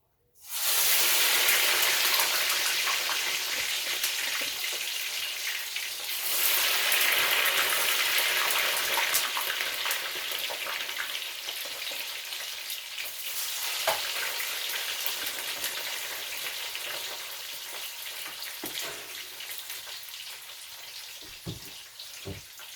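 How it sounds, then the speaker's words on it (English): Frozen seasoned fries tossed into hot oil burst into an abrupt, loud sizzle, which bubbles steadily and eases slightly over more than twenty seconds. "I'm gonna toss my fries in and toss them away from you."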